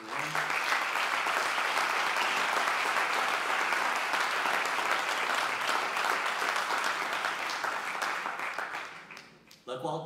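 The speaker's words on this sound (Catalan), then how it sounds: "Un aplaudiment per ells." An audience applauds at a traditional folk music event in Muro, Mallorca: sustained, dense clapping from a large crowd, close and steady for about nine seconds, then fading.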